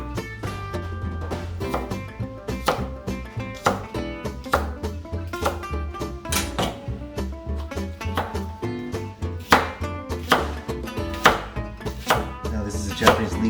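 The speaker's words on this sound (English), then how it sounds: "Cutting these into" Knife slicing a Japanese leek into thin slices on a cutting board while making miso ramen, a steady run of crisp, close chopping taps with no talking.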